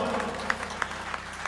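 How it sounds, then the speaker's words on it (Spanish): Audience applause greeting a guest singer from the Canary Islands at a CD presentation concert, a loose patter of clapping with a few sharper claps standing out, faint voices murmuring beneath. "Vamos a darle un fuerte aplauso."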